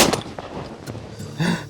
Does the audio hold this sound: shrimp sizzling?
no